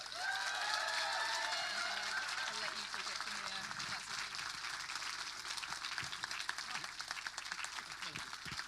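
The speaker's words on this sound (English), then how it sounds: "could everybody just give him a massive round of applause" Crowd at a folk festival farewell concert giving a steady round of applause, fairly faint and continuous, with a voice speaking over the start.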